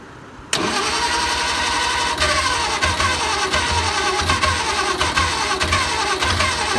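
An International 184 tractor engine cranks and catches, then runs with uneven chugging pulses up close, loud and unsteady, with no voices over it.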